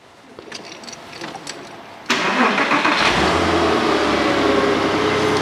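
A Porsche 986 Boxster S engine is started after a MAF sensor replacement: a quiet background, then a sudden catch at about two seconds as the flat-six fires and settles into a steady, loud idle.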